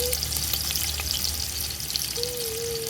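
Onions fry in hot melted ghee in a cooking pot, a steady close sizzle and crackle with faint stirring scrapes running throughout.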